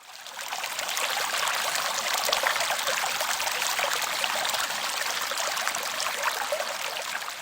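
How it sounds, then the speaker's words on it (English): A babbling brook in an alpine meadow trickles and splashes steadily, a close, continuous bright rush of water with no voices. "It sounded like the quintessential babbling brook. We filled up our water bottles, and of course, I taped the sound of it."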